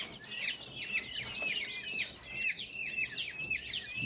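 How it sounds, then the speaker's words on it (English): Newly hatched pheasant chicks chirp constantly in a dense chorus of high, thin peeps, many overlapping calls close by with no pauses. "we got a few pheasants that hatched out last night"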